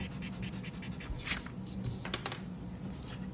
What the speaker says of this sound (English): Now we can kind of erase these lines that we had.